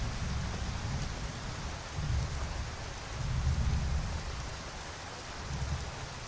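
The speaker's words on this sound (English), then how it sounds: "it's just raining" Rain and rumbling thunder in the Skyrim video game: a steady hiss of rainfall under repeated low, rolling thunder swells, with no talking.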